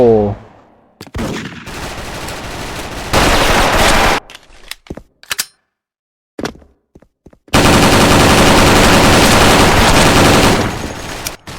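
Dragon G36C rifle fire in the game Special Force, loud bursts of automatic shots in long sustained strings separated by short gaps and scattered single cracks.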